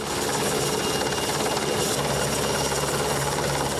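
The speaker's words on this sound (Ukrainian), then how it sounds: "Поранених евакуюють морським рятувальним гелікоптером." A maritime rescue helicopter at a Polish military training ground makes a steady, loud rotor and engine roar that holds evenly for several seconds with no voices.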